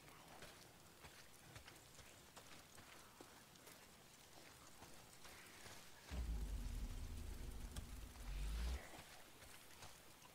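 Rain falls in the Days Gone game world as a constant soft wash, joined midway by a loud low rumble that could be thunder, with no one talking.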